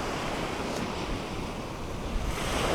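Surf rolls onto Charmouth Beach on the Jurassic Coast as a dense, continuous roar of breaking waves mixed with wind noise. It sounds close and loud with no voices.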